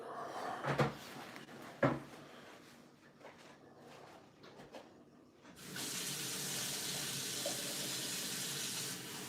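A couple of sharp knocks of a cupboard door, some faint handling, then a kitchen tap opens and water runs in a steady hiss to the end, close and moderately loud.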